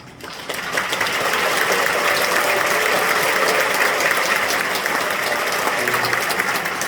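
A church congregation at an Easter joint worship service gives sustained, dense applause that swells after a brief start and holds steady throughout.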